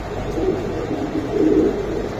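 Racer pigeons at a pigeon market, low throaty cooing in a couple of bursts against a busy background murmur.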